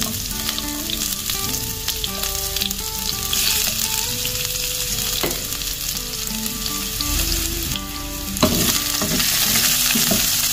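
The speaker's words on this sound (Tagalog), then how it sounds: "Lagay na tayo ng mantika. Tapos bawang, ay sibuyas pala, tsaka bawang." Chopped onion and garlic sauté in hot cooking oil, giving a steady, close broadband sizzle with occasional utensil clicks, all under continuous tonal background music.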